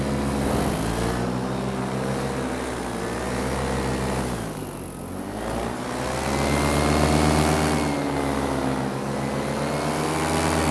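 Paramotor engine droning steadily in flight over a volcano rim, a loud continuous buzzing propeller hum with wind rush that swells and dips slightly as the craft maneuvers, no voices.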